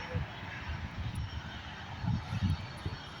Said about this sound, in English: There goes this Embraer RG145 off to Stornoway